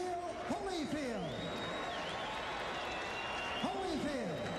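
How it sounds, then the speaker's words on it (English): Arena crowd applauding after a cruiserweight championship boxing rematch won by knockout, a steady broad wash of clapping with scattered whoops, under a ring announcer's voice. "how about a nice round of applause for Dwight Qawi"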